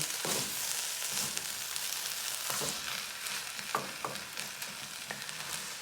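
Vegan hominy hash fries in a pan with a constant close sizzle, broken by several scraping stirs and clacks from a utensil against the pan.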